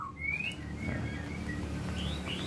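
Caged murai batu, a white-rumped shama, gives thin rising whistles and short chirps, faint and somewhat distant over a low steady background hum.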